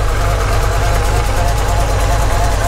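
A car engine idles steadily after a repair in a garage on a cold day, a loud, close, low rumbling drone with a faint regular pulse, unbroken for the whole short stretch with no talk.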